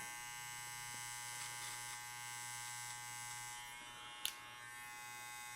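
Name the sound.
electric beard clipper trimming a beard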